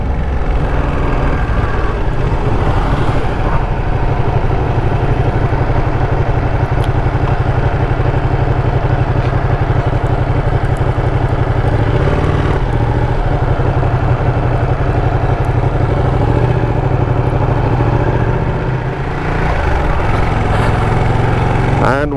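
A Ducati Panigale 959 motorcycle rides along a narrow rural village road in Tamil Nadu, its engine droning steadily and loudly at close range with a continuous low rumble and wind noise throughout.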